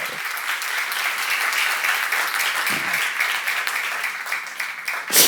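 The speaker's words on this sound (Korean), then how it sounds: "박수 한번 치세요" Congregation at a church seminar clapping together, a sustained, fairly even burst of many hands that carries on for several seconds before tapering off.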